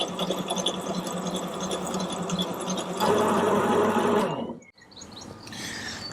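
Electric mixer whisking egg whites and sugar for a pink pepper pavlova, a steady buzzing whir that grows louder midway, then cuts off abruptly before a quieter tail.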